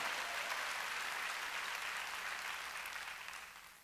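A church congregation clapping during a worship service, dense sustained applause from many hands that slowly fades toward the end.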